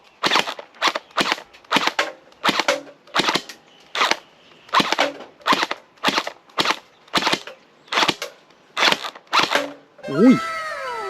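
A gel blaster toy gun fires about a dozen sharp snapping shots in a steady, evenly spaced rhythm, close and fairly loud, followed at the end by a brief warbling tonal sound.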